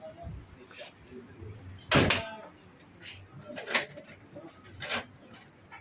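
A steel door being refitted in Silivri, with a loud metallic clunk or slam near the middle and lighter knocks and rattles around it, close to the listener with faint background noise.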